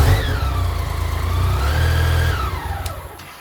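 The engine of a 1986 BMW K75C motorcycle runs close by with a steady droning hum, rising and falling slightly in pitch before winding down near the end, with no voices.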